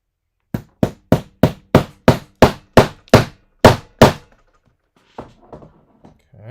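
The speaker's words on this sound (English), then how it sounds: "So let's go ahead and hammer this a little bit. Noise warning. Here comes the hammer." Hammer strikes on a toy figure's elbow during a repair: eleven sharp, evenly spaced blows close up, followed by faint scattered handling clatter.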